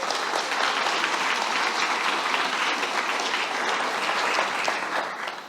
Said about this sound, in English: Can we give them both a round of applause?